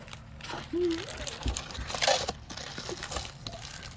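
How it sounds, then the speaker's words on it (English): Plastic packaging around a tiny silicone boy doll crinkles and rustles as it is unwrapped, with scattered crisp crackles and one brief louder rustle burst, close by. "We'll go ahead and we'll unwrap them."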